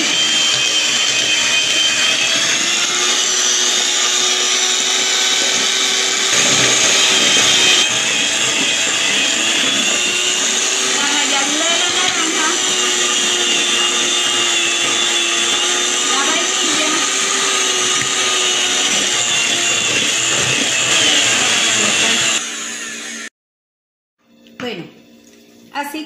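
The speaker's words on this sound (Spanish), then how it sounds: "Batida con la batidora." An electric mixer beating cake batter with egg yolks whirs continuously at close range for over twenty seconds, its motor pitch wavering slightly, then cuts off into near silence with brief clatter.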